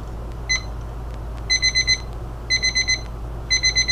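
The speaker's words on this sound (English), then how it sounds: "let me see if I can get his alarm clock to work real quick so you can hear how annoying it is" A toy alarm clock sounds repeated bursts of rapid high electronic beeps, roughly four pulses per burst, coming in a regular cycle about once a second over a low steady background hum.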